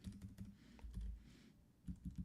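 Keys clatter on a computer keyboard in quick, uneven bursts, close and fairly quiet, with brief pauses between clusters of strokes.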